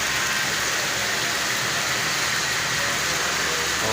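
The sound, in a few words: heavy rain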